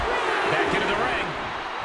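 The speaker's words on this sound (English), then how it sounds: "The sound of this crowd is deafening, and he's asking for more." Arena crowd in the WWE 2K23 wrestling video game at a WrestleMania match, a dense, continuous roar of cheering that swells and then eases slightly.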